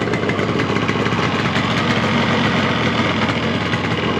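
A 1975 Yamaha RD350 motorcycle engine idles loud and close, a steady continuous two-stroke burble that never lets up and has no voices over it.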